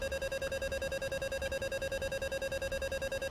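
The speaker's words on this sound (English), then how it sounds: "This is really pushing the plane to its stall limit, as you can hear with the warning alarm." Repeating stall warning tone from an A-10C cockpit in the DCS flight simulator, a steady pulsing electronic beep cycling rapidly and evenly throughout, loud and alone with no voices.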